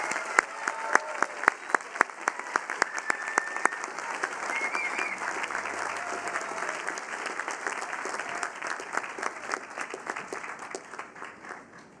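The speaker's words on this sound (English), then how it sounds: "now join me in a round of applause for all our excellent teachers" A large convocation audience applauds the teachers at the NJIT 2015 ceremony, a dense, steady sustained clapping from a big crowd that carries on for the full length and fades slightly toward the end.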